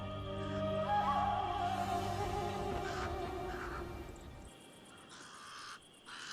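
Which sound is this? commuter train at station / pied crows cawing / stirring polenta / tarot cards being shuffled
pied crows cawing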